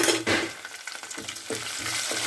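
Onions frying for upma in a pan, a busy sizzle broken by several rhythmic stirring scrapes and pan knocks, close and fairly loud with no talking.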